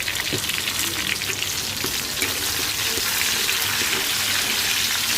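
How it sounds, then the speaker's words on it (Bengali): Steady, close sizzling of tomatoes frying in a pan with fried onions for egg curry, a continuous crackle with occasional clinks of stirring and no voices. "টমেটো দিয়ে ভালো করে ভেজে নিব"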